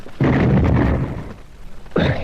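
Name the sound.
explosion bursting a door open, radio drama sound effect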